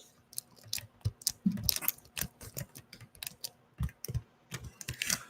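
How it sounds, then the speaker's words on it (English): Typing on a worn, weathered ThinkPad T400 laptop keyboard, an irregular run of close, clacky key presses with occasional heavier thumps, quiet and alone. "if I wasn't tired and this keyboard wasn't like actually horrible"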